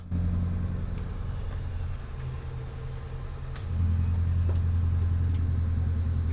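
Boat engine idling at a fuel dock just after starting, a steady low rumble that briefly dips and then grows louder and fuller as it settles, close by with no talk.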